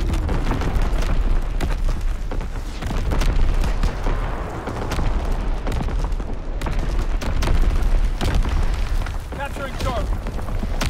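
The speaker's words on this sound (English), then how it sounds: "Incoming enemy artillery!" Dense, continuous rumble of incoming enemy artillery explosions and battlefield fire in the World War II shooter Call of Duty: WWII, booming steadily throughout with a voice heard under the barrage.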